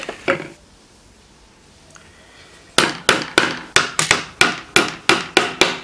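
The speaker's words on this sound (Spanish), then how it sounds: "nosotros lo clavaremos a posteriori por aquí" Nails are hammered into the wood of a bird feeder with a quick, regular run of about a dozen close, sharp hammer strikes. A couple of isolated knocks and a quiet pause come before the run.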